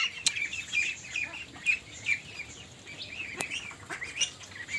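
Ducks on a duck farm: a busy flock keeps up scattered quacks and squawks at close to mid distance, irregular and overlapping, with no speech.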